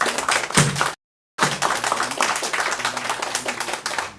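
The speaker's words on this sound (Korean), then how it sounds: "다시 한번 여러분들 뜨거운 박수를 한번 합시다" An audience at a patriotic association's monthly prayer meeting applauds warmly, with loud, dense clapping that is cut by a brief dropout before resuming strongly.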